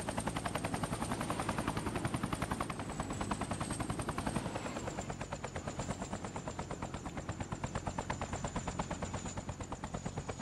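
In the video game Fortnite, the Choppa helicopter glider's rotor chops in a fast, steady rhythm with a high engine whine above it, loud and continuous throughout.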